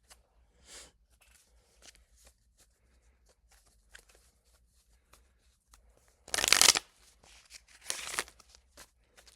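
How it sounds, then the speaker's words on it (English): A deck of cards is shuffled alone at close range: soft scattered flicks and taps, then two loud riffling bursts late on, the first the strongest. "Let me actually break it up so you guys can see that I can still shuffle."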